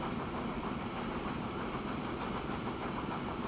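A train in the Transport Fever game rolls along rails with a steady, even rumble and faint rhythmic clatter, with no voices.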